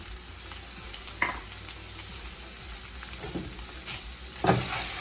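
Scallions and hot peppers fry in a hot pan with a steady, close sizzle, broken by a few sharper crackles and the scrape of stirring, strongest near the end.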